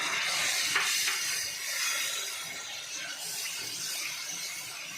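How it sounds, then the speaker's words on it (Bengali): Onion paste and spices fry in a pan with a continuous hissing sizzle that swells and eases slightly, close and fairly quiet, with no talk. "একটু কষিয়ে নিই পেঁয়াজটা মশলাটা।"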